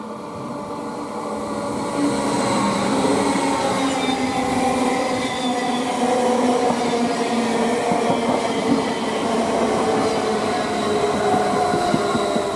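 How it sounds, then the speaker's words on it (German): A Westbahn double-deck passenger train running from Innsbruck to Vienna Westbahnhof rolls through Kufstein station with a steady, close rumble of wheels on rails and faint squealing, with no voices over it. "Und hier ist er wieder zurück, Westbahn von Innsbruck nach Wien Westbahnhof."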